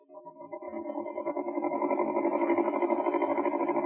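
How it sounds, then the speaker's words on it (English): Sewing machine running continuously, a steady buzzing hum with a rapid pulsing rhythm that builds slightly and holds at an even level, no talk over it. "Miss Winthrop, you heard the sewing machine just now"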